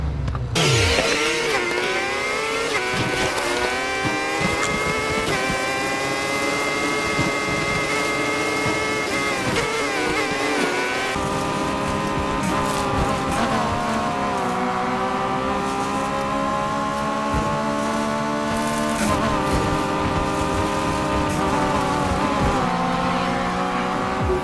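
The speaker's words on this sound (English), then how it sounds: "here we are coming up to the finish line with the Ford F-150 Raptor" A Ford F-150 Raptor's engine roars steadily in NFS Heat, loud and sustained with rising and falling revs and gear shifts as the truck races off-road toward the finish line, alone without talk.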